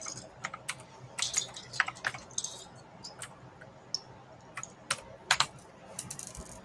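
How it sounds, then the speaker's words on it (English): Quick, irregular keystrokes on a computer keyboard, clacking in short bursts and single taps at close range with low room noise and no talk. "keyboard is so unresponsive"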